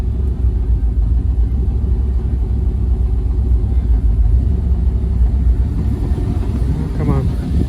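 An OBS Chevy truck engine idles while warming up, a loud, close, low rumble running steadily and slightly uneven throughout, with someone speaking over it.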